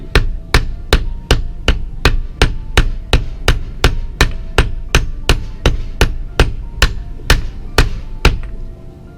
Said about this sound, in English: So the mallet isn't working so well for me.